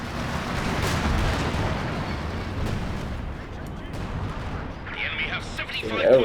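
A World War II strategy game battle with Wehrmacht forces, Katyusha rockets and anti-tank guns fills the scene with continuous rumbling artillery and scattered gunfire, a dense, booming backdrop that swells louder at the end.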